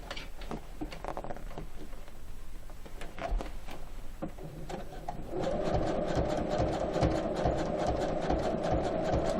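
Sewing machine stitching a holding seam on badly torn jeans, first in short bursts, then a steady rapid run of needle strokes, close and loud.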